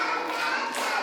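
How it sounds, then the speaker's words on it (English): Several people clap hands together in a classroom lesson for young children, a steady close patter of claps filling the whole short moment without any talking. "Clap for me."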